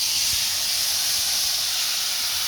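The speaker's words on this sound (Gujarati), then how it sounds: "જીરું આપણું ગરમ થઈ ગયું છે, આની અંદર હવે આ પેસ્ટ બનાવી છે એ નાખશું" Spice paste sizzling as it is added to hot cumin oil in a pan: a steady, bright, loud hiss that holds evenly throughout with no pauses.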